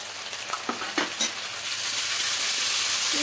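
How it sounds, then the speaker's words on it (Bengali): Onion frying in a pan with ginger garlic paste just added, a steady close sizzle building louder through the second half, with a few stirring scrapes early on and no talking. "এবার এর মধ্যে আদা রসুনের পেস্টটা দিয়ে দেবো।"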